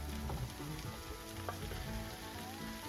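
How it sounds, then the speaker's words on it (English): Mushrooms sizzle and fry in a hot pan with a steady, soft crackling hiss that stays even throughout, fairly quiet and with no voices. "let's whack the mushrooms in so they can start to cook."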